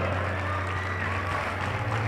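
Audience applause for the score table officials at a girls' school basketball semifinal in the Copa Colegial, a steady, dense wash of clapping filling the whole moment with a faint low hum beneath.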